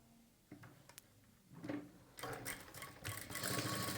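A sewing machine stitching a sleeve starts with a few soft clicks and taps, then builds into a quick, rising run of rapid stitching, close and fairly quiet, with no talking.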